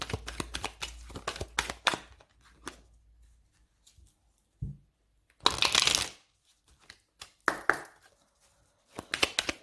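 Oracle cards shuffled in several close, loud bursts of rapid riffling and rustling, separated by silences and a few soft taps as the deck is handled.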